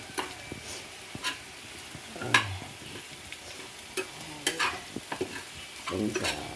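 A spatula scrapes and turns a potato fry seasoned with pepper and cumin in a pan, giving irregular close scraping strokes over a soft, steady sizzle.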